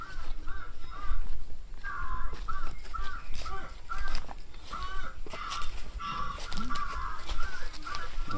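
A rooster crowing plays repeatedly from a phone speaker to scare off crows, several tinny crows in a row over outdoor background noise.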